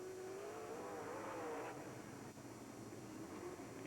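A NASCAR race car engine drones on track at a night event, its pitch rising and falling with revving. It sounds distant and steady under a wash of crowd and ambient noise.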